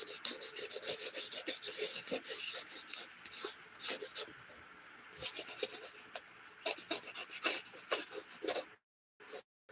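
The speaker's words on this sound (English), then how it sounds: "you're sanding them down so you can paint on them" Hand sanding prepares a surface for painting, with rapid rasping strokes in bursts, close and fairly loud, broken by short pauses and a moment of near silence at the end.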